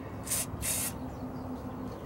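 Two quick hissing bursts of penetrating lube sprayed onto a part of a 1991 Ford F250, close and sharp against a low background hum.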